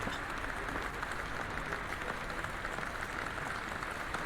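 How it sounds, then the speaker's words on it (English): A crowd of people claps continuously in the horror game Detention, a dense, even patter of applause holding steady throughout. "More clapping people."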